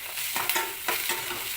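Turmeric stirred into hot oil in a pan for poha gives a loud, steady sizzle, with a few soft scraping strokes of the stirring spoon rising above it.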